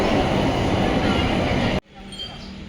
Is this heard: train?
yes